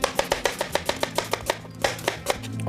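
Two medium onions being finely chopped on a board, a quick steady run of sharp knife taps, close and clear, with a brief pause before the rhythm resumes.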